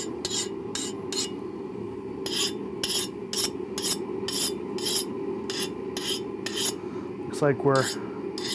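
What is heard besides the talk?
file skating over hardened railroad spike knife edge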